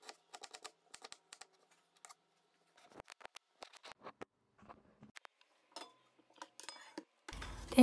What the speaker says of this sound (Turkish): İç harcımız için 3 adet kuru soğanı yemeklik olacak şekilde doğruyorum.